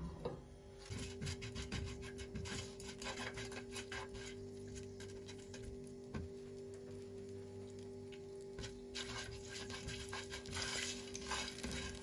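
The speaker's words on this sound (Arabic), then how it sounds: "بحط البهارات كبشة قرنفل الهيل القرفة الفلفل الأسود، بقليهم شوي على الغاز" Whole cloves, cardamom, cinnamon and black pepper fry in about four tablespoons of vegetable oil over a gas flame for chicken curry, giving a faint, steady sizzle with soft rubbing stir scrapes throughout and no voices.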